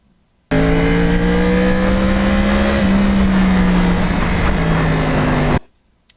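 A 2009 Yamaha R1 sportbike with a crossplane engine revs loudly and close for about five seconds, its pitch rising and then holding steady before the sound cuts off abruptly.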